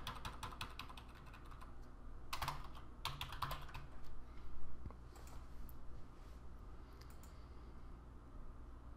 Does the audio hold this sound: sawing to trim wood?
no